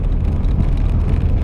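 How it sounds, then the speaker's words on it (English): Old Citroen CX diesel engine pottering along in third gear at just over 1,000 rpm, a low, steady grumble heard from inside the car, brief and unbroken. "Very old school diesel engine."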